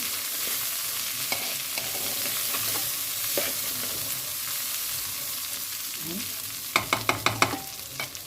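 Rice and vermicelli sauté in a hot pan with a soft, steady sizzle, broken by occasional scraping stirs and a quick burst of sharp spoon clatters near the end.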